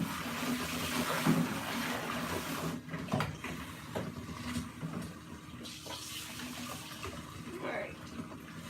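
Water running or being poured into a container in a home kitchen during breakfast cooking, a steady broadband wash lasting most of the stretch with a few clinks, fairly close and moderately loud.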